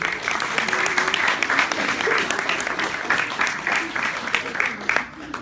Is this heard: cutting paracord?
no